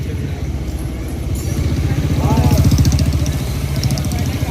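A motorcycle engine idling close by, a low steady rhythmic putter that swells a little in the middle, with faint voices in the background.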